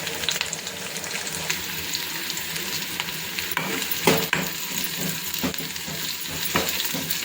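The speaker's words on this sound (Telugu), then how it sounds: "ఇలా వేగుతుండగా కొద్దిగా కరివేపాకు వేసుకుంటాం" A tempering with curry leaves frying in hot oil, giving a continuous loud, close sizzle with occasional spoon scrapes and crackling pops as it is stirred.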